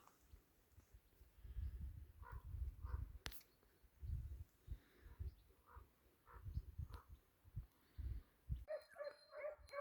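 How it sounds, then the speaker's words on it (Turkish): Two hunting dogs bark and yip faintly in the distance on a snowy mountain hunt, a few scattered calls over quiet outdoor background, with a bird chirping near the end. "köpekler var. iki tane köpek"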